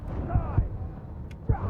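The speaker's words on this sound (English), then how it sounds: "there's the explosion." An explosion in the video game Code Vein booms out as several heavy low thuds, loud and close, over a dense game soundtrack.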